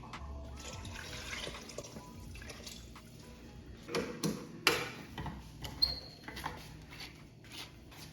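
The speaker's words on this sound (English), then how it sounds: "Put 2/4 of water." Water is poured into a pot of sautéed pork with onion and garlic for a Filipino pochero stew, giving quiet trickling and a few sharper splashes and clinks in the latter half.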